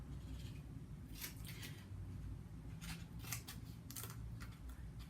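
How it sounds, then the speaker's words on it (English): Scissors snip paper into strips for the wing ends of a paper toy, several quick crisp cuts in short clusters over a low background hum. "Now I want to take my scissors and make some more strips, this time on the ends of the wings."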